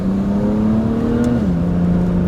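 A 2008-era BMW 135i with the N54 engine and downpipes holds a steady, droning rev that dips slightly in pitch, heard loud from inside the car.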